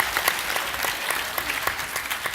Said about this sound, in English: Well, people clap for Scott here.